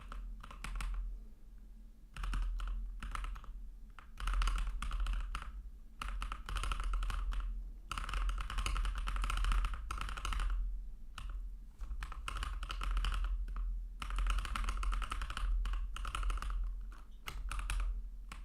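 Rapid bursts of clicky keyboard typing, stopping and starting in short runs with brief pauses between, close and crisp with no talking.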